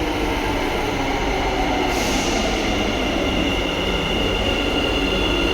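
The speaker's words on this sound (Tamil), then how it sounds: "இங்கே பாருங்கள், மெட்ரோ ட்ரெயின் வருது." A Bangalore metro train passes with a loud, steady rumble that holds for the whole stretch, a thin wheel squeal riding above the rolling noise.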